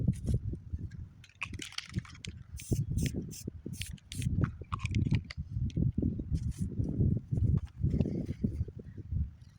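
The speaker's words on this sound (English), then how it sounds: "now we're going to go outside and spray paint them" Several short hissing bursts of an aerosol spray can painting sanded metal lids, fired in quick succession, over repeated low thumps and handling noise close by outdoors.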